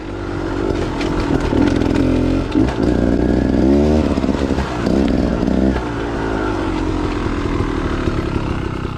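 An off-road motorcycle engine drones loud and close as the bike rides over bumpy rocks, its pitch rising and falling with throttle changes and a shift, continuous throughout with no talking.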